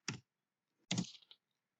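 Brief bursts of clicking keys on a computer keyboard, two short clusters separated by a pause, close and fairly quiet with no talking.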